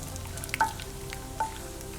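Cashews and almonds fry in ghee in a pan with a steady close sizzle, broken by a couple of faint clinks of a spoon stirring, no voices.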